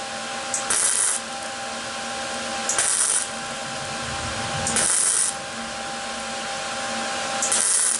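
Short bursts of tack welding on a thin, broken metal dustpan recur about every two seconds, each a bright crackling hiss lasting around half a second over a steady background hum, close and fairly loud.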